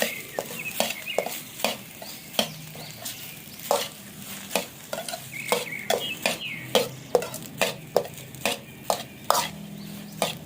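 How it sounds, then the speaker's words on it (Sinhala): Cooked keeri samba rice is stirred with spices in a hot, sizzling pan, a spoon scraping and clinking against the metal in a steady rhythm of sharp strokes over a low frying hiss. "මේ ද්‍රව්‍ය ටික හොඳට රත් වුණාට පස්සේ කීරි සම්බා 500කින් ව්යාගත්ත බත් ටික දාලා අපි කලවම් කරගන්නවා"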